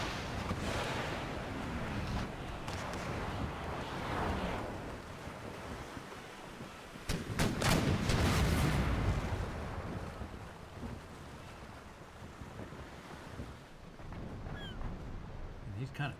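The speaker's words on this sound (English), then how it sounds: "There go the guns." Naval cannon broadside from warships in Empire Total War, a dense burst of heavy booms around the middle over a steady wash of sea surf and wind, with a voice talking throughout.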